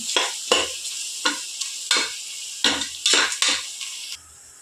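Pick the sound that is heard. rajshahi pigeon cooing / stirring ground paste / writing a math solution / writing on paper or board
stirring ground paste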